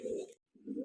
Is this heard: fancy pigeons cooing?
yes